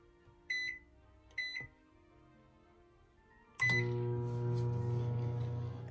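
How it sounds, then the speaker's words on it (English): A microwave oven heating icing gives two short electronic beeps from the keypad, then its steady low hum starts and keeps running alone in a quiet kitchen. "I'm just going to put it in the microwave for about 15 seconds."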